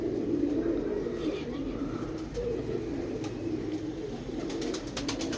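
Low, soft cooing from a pigeon rolls on continuously under a busy, noisy background with scattered clicks and sharp taps, the bird sounding near but not loud.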